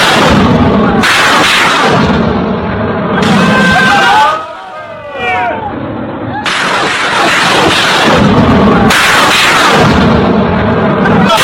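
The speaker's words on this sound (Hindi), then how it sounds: "पाकिस्तान ने तोपें लगा दी और तोपों से गोले दागे गए।" Pakistani artillery guns firing shells at the Afghanistan border produce repeated loud, heavy bursts of blast noise in close succession, broken midway by a brief quieter stretch with sweeping whistle-like tones.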